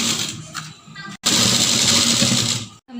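A sewing machine runs in steady bursts, stitching elastic into the folded waistband of a palazzo, with a brief pause before a long continuous run, close and loud.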